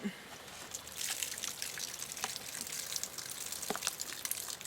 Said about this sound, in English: So we'll just drain off the brine.